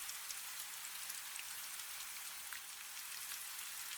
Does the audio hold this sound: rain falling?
yes